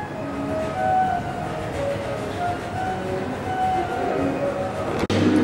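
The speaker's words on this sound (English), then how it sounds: "Palais Royal. The train station." Trains rumble steadily at the Palais Royal station, a continuous loud rolling and grinding with faint metallic squeals and a sharp clunk near the end.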